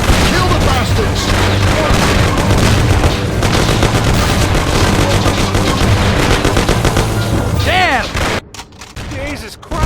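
Gunfire in the Mafia video game during a chaotic street ambush, loud continuous bursts of automatic and single shots with booms, shouting voices mixed in, dropping off abruptly near the end.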